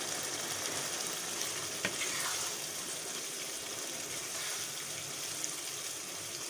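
White black-eyed peas (lobia) curry is being fried and stirred in a pan, giving a steady close sizzle with a light scrape partway through, no voices over it.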